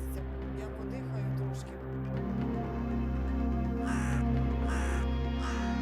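Caws of a crow ring out in a few short bursts, moderately near, over a steady low hum and faint background voices.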